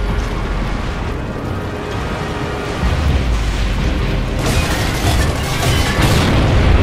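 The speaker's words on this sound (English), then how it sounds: "Mortars!" Mortar shells exploding in Gears of War: Judgment, heavy rumbling booms with rolling low-end blasts that build louder toward the end, loud and close with debris-like crackle.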